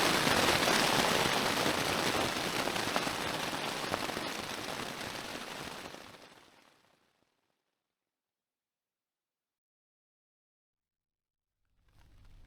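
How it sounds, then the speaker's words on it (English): Heavy rain drumming on a tent at night, a dense, loud hiss of drops for about six seconds that fades into silence, then returns faintly at the very end. "The rain last night was just absolutely biblical"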